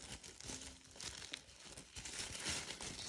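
Tissue paper crinkles and rustles softly and continuously up close while a Christmas gift box is being unpacked, with no talking.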